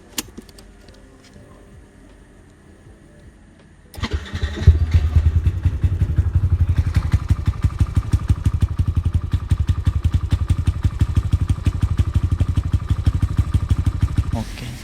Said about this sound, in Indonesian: sekarang kita bakal cek sound suara motor NMAX Mr.